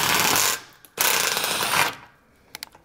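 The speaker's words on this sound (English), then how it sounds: "we're gonna drill this hole, it's gonna tap it" A Milwaukee drill-tap accessory on a drill bores and threads a hole in two loud, close, continuous grinding bursts separated by a brief pause, followed by a couple of small clicks.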